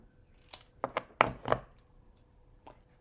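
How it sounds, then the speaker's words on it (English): Paper snips make a handful of crisp, quiet snipping cuts as paper is fussy cut by hand, clustered together, then a pause and one more faint snip. "Now I'm going to take my paper snips and I'm just going to fussy cut this."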